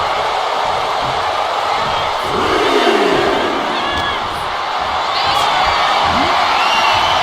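A roaring arena crowd in the WWE 2K25 wrestling video game cheers and shouts continuously, loud and sustained, swelling slightly midway, with a commentator's voice faintly underneath.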